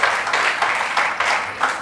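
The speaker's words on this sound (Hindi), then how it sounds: "ताली क्यों कर रहे हो?" An audience claps at a Jain Ramayana religious discourse led by a monk, several bursts of applause rising and falling in quick succession, fairly loud and close, without speech.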